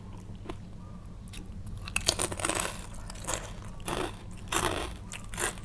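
Close, crisp crunching of pork cracklings being bitten and chewed, irregular bursts of crackle repeating over several seconds against a low background hum.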